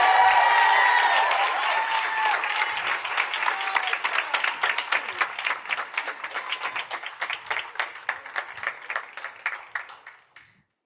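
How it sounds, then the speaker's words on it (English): A room full of people at a school design presentation in New York applauds to welcome a school onstage, starting as a thick burst of clapping that thins into scattered, separate claps before fading out. "I want you to welcome them with a big round of applause, Quest Academy"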